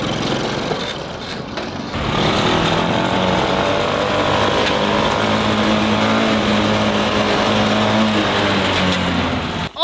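A farm tractor engine runs steadily while driving across a field, a loud continuous mechanical drone with a harsh rattling edge that starts abruptly after a short quieter moment and holds to the end.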